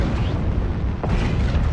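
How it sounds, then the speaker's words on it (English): An ammo explosion tears through a fragile mech in a competitive BattleTech-style match, a loud sustained rumbling blast with a sharper burst about a second in, heard alone without talk. "Ammo explosion as well."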